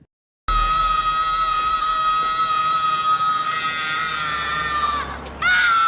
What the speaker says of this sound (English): he does the funny scream